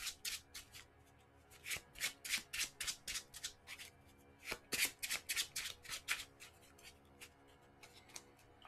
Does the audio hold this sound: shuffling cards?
yes